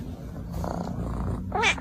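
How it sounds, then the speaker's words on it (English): A cat purrs in a close, steady low rumble, ending with a short, rising meow-like cry. "Where's that purring coming from?"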